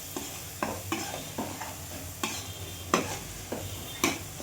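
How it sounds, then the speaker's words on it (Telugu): A fish pulusu mixture gets stirred in a frying pan, a spoon scraping in irregular strokes roughly every half second over a continuous low sizzle, close and fairly loud. "మంచిగా ఆ మిశ్రమం అంతా కలిసేలాగా కలుపుకుందాం."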